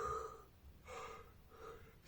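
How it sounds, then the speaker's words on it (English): Spontaneous yawning during a Kriya Yoga relaxation practice: soft, breathy drawn-out exhalations in a couple of faint, close waves, with no speech. "spontaneous yawning"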